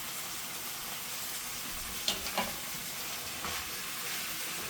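Wet kale sizzles in a frying pan with mixed veggies, sausage and rigatoni, a soft steady hiss with a couple of brief clinks and stirring sounds partway through.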